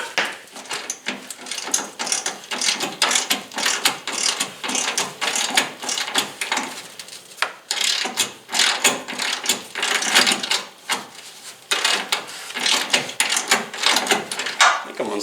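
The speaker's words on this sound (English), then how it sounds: "start by taking the upper bolts off. These are 14 millimeter." A hand ratchet clicks steadily as 14 mm upper strut bolts come off a Ford ZX2 car. The fast pawl chatter runs close and continuous in bursts, with short pauses where the wrench is reset.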